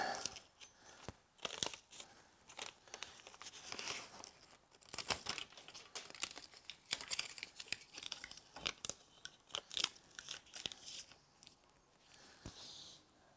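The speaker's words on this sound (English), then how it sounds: "So I'm going to tape this on." Tape being pulled, torn and pressed around a pipe on a propane burner, a faint close run of crinkling, ripping and crackling bursts at an irregular pace, with no voices.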